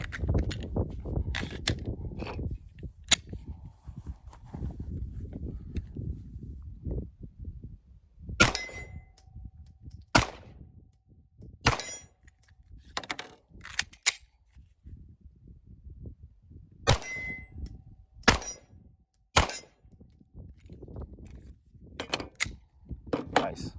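A Ruger RXM 9 pistol fired at a range, with sharp separate shots and bright metallic pings from steel targets, spaced irregularly in small clusters over a long stretch, along with some low handling noise and bits of talk.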